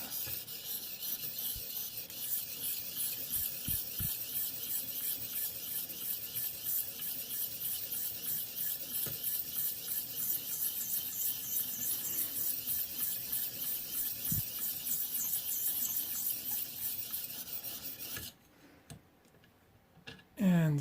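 Civivi Mandate knife blade being sharpened on a ViperSharp stone: a steady, close rasping scrape runs continuously for most of the stretch with faint ticks, then stops near the end as brief handling sounds follow.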